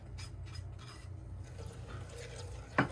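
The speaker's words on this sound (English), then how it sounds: "Stir it all together" Egg is stirred into vegan skillet cookie batter, giving soft, faint scraping and rubbing in a bowl, with one sharper clack near the end.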